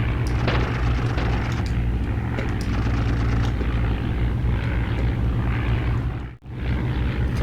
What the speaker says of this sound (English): That freaking propeller's still going.